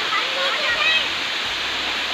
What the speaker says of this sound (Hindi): यहाँ पर आप झरना देख सकते हैं ऊपर से नीचे आता हुआ